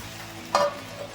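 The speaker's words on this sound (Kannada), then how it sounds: "ಇದೆಲ್ಲ ಬೆಂಡೆಕಾಯಿ ಜೊತೆ ಚೆನ್ನಾಗಿ ಫ್ರೈ ಆಗಬೇಕು" Okra and tomatoes fry in a pan for a North Karnataka okra chutney, a soft steady sizzle broken by one short, sharper scrape or stir partway through.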